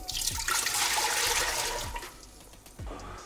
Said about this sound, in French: mettre l'équivalent de 3 cups, 3 doses de 250 ml, donc 750 ml d'eau à température ambiante dans la cuve